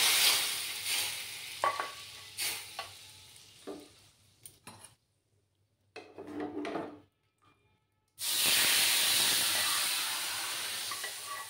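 Hot fried panch phoron tempering is poured into a rui fish curry, starting with scattered stirring clinks and scrapes, a brief near-quiet gap, then a sudden loud, sustained sizzle that slowly fades.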